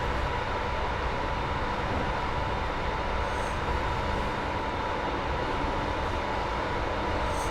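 A Class 86 locomotive hauls intermodal freight over Shap on the West Coast Main Line in a train simulator game, a steady, unbroken mechanical drone with no talk.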